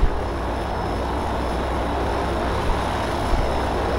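Propeller airplane engine drone in the video game Left 4 Dead 2, a steady loud broadband roar that holds evenly throughout as the aircraft flies off.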